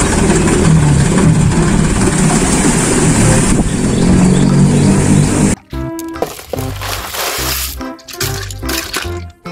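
Toy sand dump truck making an electronic engine rumble, a steady loud low drone for several seconds, then a cut into choppy rhythmic sound effects with beeps and pulses.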